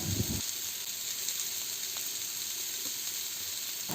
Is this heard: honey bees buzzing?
no